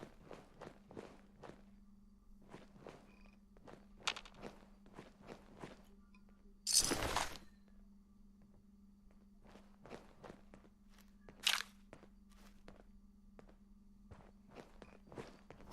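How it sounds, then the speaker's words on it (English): Steady footsteps in the Fallout 4 video game thud at an even walking pace throughout, fairly quiet against a low steady hum, with two brief louder bursts of noise breaking in. "Like, those footsteps are just so loud."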